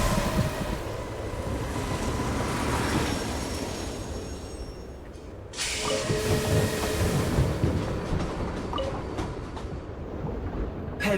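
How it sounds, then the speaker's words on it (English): A train arriving in the video game Genshin Impact, a steady loud rumble of rolling rail noise that dips briefly and then swells back up, with no talking. "Call the train."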